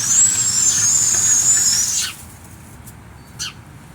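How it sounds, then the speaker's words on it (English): A bird calls from a tree, a loud, close, sustained high call lasting about two seconds, then a brief fainter call follows after a quiet gap. "I hear a lot of birds"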